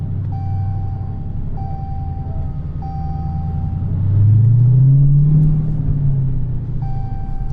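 A 426 Whipple Hemi car engine idling in first gear, a loud deep rumbling lope that swells in the middle, with a series of short repeated beeps sounding over it.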